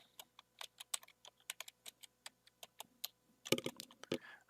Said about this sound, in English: Okay, I typed my password